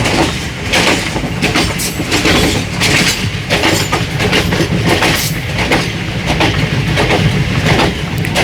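A moving train rolls through a small railway station, its wheels beating a loud, steady clickety-clack on the rail joints from inside a carriage, with a continuous rumble underneath.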